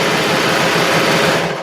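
A serger runs steadily to finish the edge of skort fabric, a loud, close, continuous whirring stitch hum that holds even for about a second and a half before easing off, with no talking.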